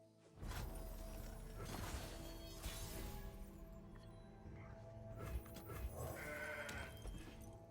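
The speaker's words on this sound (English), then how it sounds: "The goat." A goat bleats in the Legends of Runeterra card game, a short cry set among busy game effects, crashes and music, moderately loud with no talk over it.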